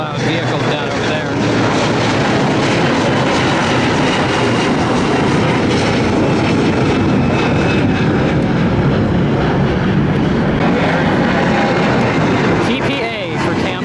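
A passenger airliner passing at Atlanta airport, a loud, sustained broadband engine roar that stays strong and steady from start to finish.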